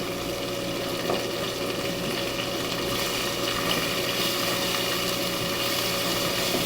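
Onions and peppers hit a hot pan used to cook steak with garlic and rosemary, giving a steady, close sizzle and crackle that runs unbroken for several seconds with no talking.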